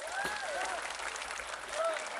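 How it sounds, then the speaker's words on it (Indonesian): An audience at an Islamic religious gathering in Dolopo, Madiun claps for Mas Agus, a continuous crowd applause with a few whistles or cheers rising over it. "Tepuk tangan untuk Mas Agus."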